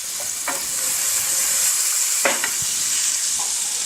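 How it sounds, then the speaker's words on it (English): Pepper sautés in a pan over medium heat, a steady close sizzle and frying hiss with a few soft stirring scrapes and clinks on top, no talking. "I'm going to get our pepper in there to saute also."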